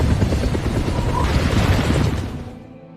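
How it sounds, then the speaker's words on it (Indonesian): A medevac helicopter roars in a war film, a loud dense rotor thrum that builds and then fades out near the end, with possible gunfire mixed in. "Letnan Bunderman memerintahkan Romesa agar menyuruh Younger meninggalkan pangkalan melalui helikopter Medipav bersama mayat Kapten Yeleskas."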